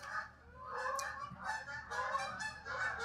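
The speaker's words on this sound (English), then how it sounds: "Are those geese?" A flock of geese honks repeatedly as it flies away, with overlapping calls that rise and fall at moderate distance and no talking.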